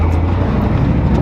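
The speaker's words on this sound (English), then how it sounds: "We're riding around in the LS Swap BMW." An LS-swapped BMW drives along, its V8 engine a steady low drone heard from inside the car in a brief, constant burst.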